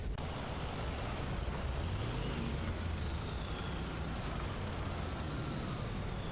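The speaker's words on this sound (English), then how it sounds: "This is what the Leopard 2 sounded like a while ago." A Leopard 2 tank engine in War Thunder rumbles steadily with a deep drone and broadband roar, its pitch shifting slightly midway, continuous and loud with no voices.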